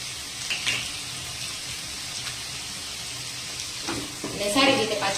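Tomatoes and cashews sizzle in a hot pan for a paneer angara gravy, a steady close frying hiss that crackles louder near the end as the pieces settle in.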